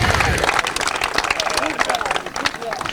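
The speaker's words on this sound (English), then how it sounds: "You notice the crowd's excited" A crowd at a senior men's doubles match cheers and claps in a dense, loud wash of excited noise, with voices mixed into the roar throughout.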